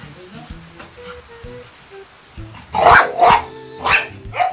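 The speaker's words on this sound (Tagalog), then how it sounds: "talagang tumatahol sila" Several large dogs bark loudly and repeatedly nearby, sharp barks in an irregular rhythm, with a person talking quietly underneath at the start.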